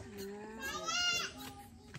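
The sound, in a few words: goat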